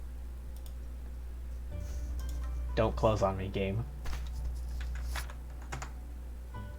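Fingers type on a computer keyboard to look something up, a quick run of close, crisp key clicks in the middle while someone speaks briefly over them.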